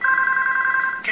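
A telephone rings in a TV commercial, a steady electronic warbling tone held loud and alone for about a second before a brief shift at the end.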